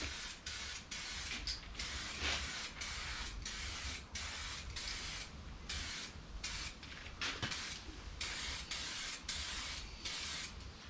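Steady hissing bursts of spray paint on a car's edges, repeated in short pulses with brief gaps, close and loud, with no talking.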